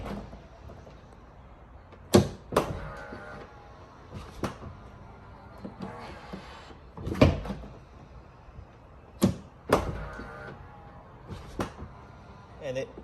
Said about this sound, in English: And it also sounds much smoother and more elegant when you close the door fully.